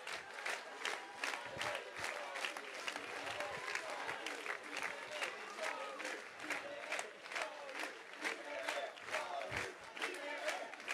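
A large crowd applauds steadily at a political rally in Marseille, awaiting Jean-Luc Mélenchon at the 2018 summer gathering. The dense clapping stays loud and even throughout, with scattered shouts mixed in.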